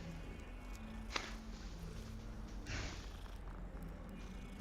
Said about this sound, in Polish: Czy za głaskanie kotów też są punkty doświadczenia?